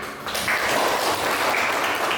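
A classroom of students claps in unison for a classmate's correct answer, a steady dense patter of many hands near and loud from start to finish.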